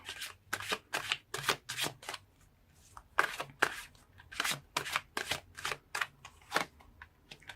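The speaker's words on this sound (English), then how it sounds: "So let's pull more cards and see." Tarot cards are shuffled and pulled in quick papery riffles and snaps, a steady rhythm of crisp bursts close up, with no talk.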